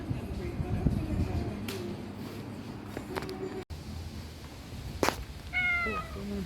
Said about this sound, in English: Look at that big cat.